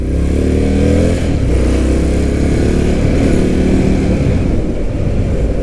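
An Indian FTR 1200 motorcycle engine running while ridden, a loud, close, continuous throaty drone with a rough pulsing growl and slight shifts in pitch throughout.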